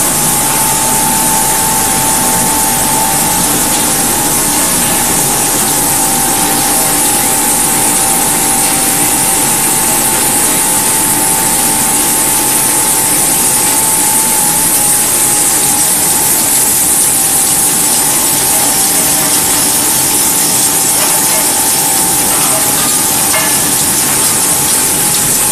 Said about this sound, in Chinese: 这边是吹干。